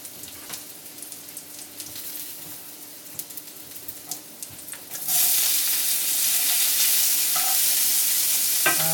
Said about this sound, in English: now we'll put the onions and the garlics and the peppers